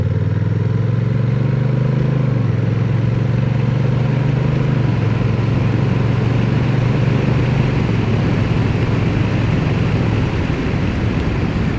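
A 2025 Honda Rebel 1100 DCT motorcycle cruises under normal riding, its engine droning loud and steady while the pitch drops in distinct steps as the dual-clutch gearbox shifts through gears, over constant wind rush.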